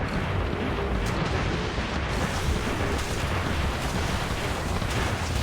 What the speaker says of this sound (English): And we'll prepare the mortar.